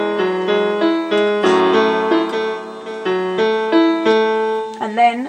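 Solo piano plays one bar of a song, with a steady run of clear repeated notes and chords in an even rhythm, close and moderately loud. A brief sliding, wavering tone sounds at the very end.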